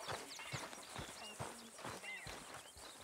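Horse in Red Dead Redemption 2 clopping along at a walk with scattered hoof beats, a brief whinny-like call, and background game music and chatter running underneath.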